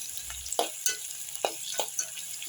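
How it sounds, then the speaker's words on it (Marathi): Onion sautéing gently in oil for a drumstick (shevga) amti, soft continuous sizzle broken by several sharp spatula scrapes and taps against the pan, fairly quiet and close. "एकदम छान असा तेलामध्ये परतून घ्यायचा कांदा"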